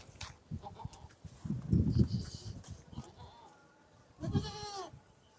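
Hyderabadi goats and kids bleat in a few bursts close by, one short wavering call near the end, with rustling and shuffling between them.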